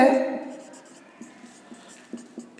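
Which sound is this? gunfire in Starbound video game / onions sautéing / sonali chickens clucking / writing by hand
writing by hand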